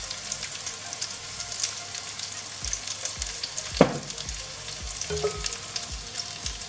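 About three tablespoons of oil sizzle in a hot pan over high heat while preparing a Bengali fish curry, a steady close crackle with occasional sharper pops and stirring knocks, and no voices.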